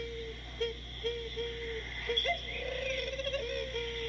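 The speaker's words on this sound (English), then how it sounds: "Does anyone know what bird sound that is? You probably hear it all the time when you're outside. But that's a dove." A dove calls in soft, repeated cooing notes that recur roughly every half second, steady and moderately distant against faint background hiss.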